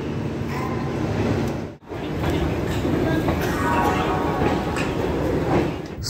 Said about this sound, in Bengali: ট্রেন ছেড়ে দিয়েছে এক্স্যাক্ট 4:05